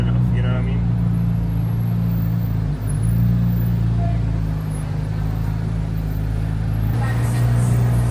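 A Chevrolet C8 Corvette Z06 engine while driving on city streets, a loud steady low droning rumble with a brief dip partway through, with someone talking over it inside the car.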